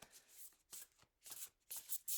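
Quiet riffling bursts from cards being shuffled by hand, several quick papery flutters in an uneven rhythm with short pauses, close and soft with no voices.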